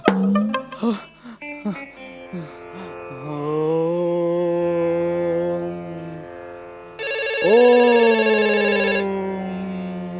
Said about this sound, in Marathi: अरे फोन वाजतोय तुझा.